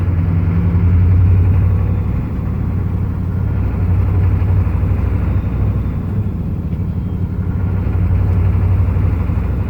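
A Chevy 6.5 turbo diesel truck with a surging DB2831-4911 injection pump pulls in third gear, giving a steady, loud low engine drone heard from inside the cab that swells and eases slightly.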